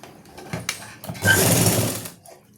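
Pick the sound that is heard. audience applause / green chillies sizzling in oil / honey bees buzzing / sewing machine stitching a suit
sewing machine stitching a suit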